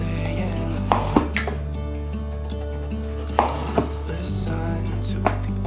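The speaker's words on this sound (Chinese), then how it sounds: "芋頭削完皮洗乾淨， 切成厚片狀" A kitchen knife cuts peeled taro into thick slices on a cutting board, giving about six sharp, separate chops spaced unevenly, close up over a steady background hum.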